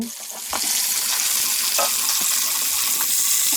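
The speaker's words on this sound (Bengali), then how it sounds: "তারপর এখানে আমি মাছ ভাজি করে নেব।" Fish fries in a pan of hot oil, a steady, close hiss of sizzling with a few soft clinks and stirring sounds.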